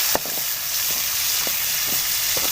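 Tomato frying in a pan with lightly browned onions for an arvi masala curry, giving a steady close sizzle and hiss with a few soft clicks of a utensil, no talking.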